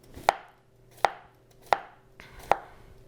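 A knife slices thin rounds of cucumber on a cutting board, four crisp, evenly spaced chops ringing out sharply against quiet, close and clear.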